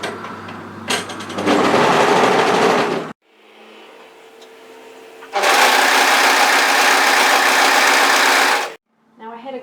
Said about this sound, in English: now let's sew that underarm seam edge